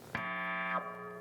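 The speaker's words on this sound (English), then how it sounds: "the main magic comes from the wah pedal, which sounds like this" Electric guitar through a wah pedal, a single sustained note that swells in sharply, rings bright and steady for well over half a second, then sweeps down as the filter closes, leaving a fading hum.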